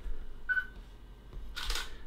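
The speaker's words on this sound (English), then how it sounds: "you just click on the shutter release, and then you just take a picture" A Nikon camera's shutter release fires to take a picture, giving a short, faint mechanical click amid quiet room noise, followed moments later by a brighter, louder burst.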